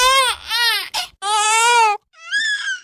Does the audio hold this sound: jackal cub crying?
yes